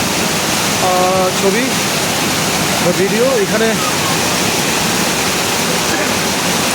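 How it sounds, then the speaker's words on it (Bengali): The Panchalingeswar waterfall roars loud and constant from up close, a dense rushing wash, while people talk briefly over it. "এই হলো পঞ্চলিঙ্গেশ্বর ঝর্ণার খুব কাছ থেকে তোলা"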